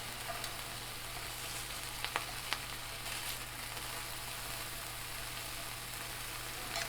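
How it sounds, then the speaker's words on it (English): English muffins toasting in a pan for eggs Benedict give off a steady, soft sizzle, with a few faint clicks and ticks near the start and no talking. "we're going to put those English muffins in this pan and get them nice and toasted"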